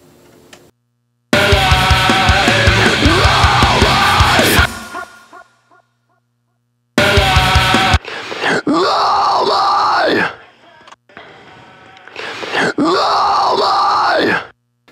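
Screamed metal vocals from a song mix, harsh distorted bursts of several seconds each separated by short silences, loud and up front.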